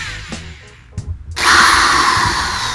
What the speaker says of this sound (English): I'm going to use an electric screwdriver, remove some of these screws.